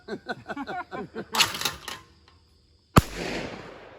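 Out on a clay-shooting range, a Revolution Armory Celerity shotgun fires one loud, sharp shot at clay birds after a run of rapid mechanical clicks and a brief rustle.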